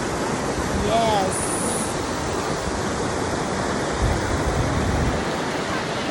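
Clear river water rushes steadily at Dipalo River Park in San Quintin, Pangasinan, a continuous close wash of flowing water with brief chirps and faint voices over it.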